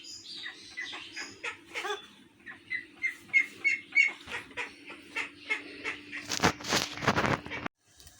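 A duck squawks indoors in a rhythmic series of about a dozen short, harsh calls, close but fairly quiet, ending in a louder burst of noise.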